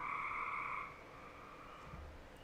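Frogs living under a hot tub cover croak in a continuous trilling chorus, faint and somewhat distant over low background noise, fading slightly after the first second.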